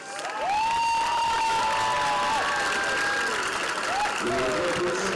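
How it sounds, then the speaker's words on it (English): A stadium crowd at a high school football game applauds and cheers for the senior members of the marching band, a sustained, steady roar of clapping and shouts with an announcer's voice carrying over it. "Please join us in giving a loud round of applause for the class of 2026 marching"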